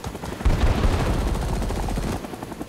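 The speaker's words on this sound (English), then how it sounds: "Strafing run." Helicopter strafing run in Rising Storm 2, a sustained burst of rapid machine-gun fire lasting about a second and a half, loud and close, ending abruptly into quieter ambient noise.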